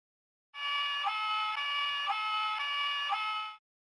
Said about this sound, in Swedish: Polisbilen tutar.